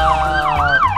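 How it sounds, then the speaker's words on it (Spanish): An ambulance siren wails loud and close in a steady rising-and-falling cycle, with a low vehicle rumble underneath and no voices. "ya viene la ambulancia"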